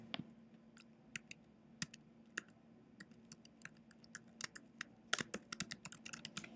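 Keys clatter on a computer keyboard as a username is typed, with sparse taps at first and then a quicker burst of clicks near the end, close and crisp over a faint steady hum.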